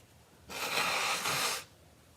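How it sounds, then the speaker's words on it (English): A person blows their nose once, a close, breathy, noisy burst that lasts about a second and stops sharply, with a quiet room before and after. "I need to blow my nose quick."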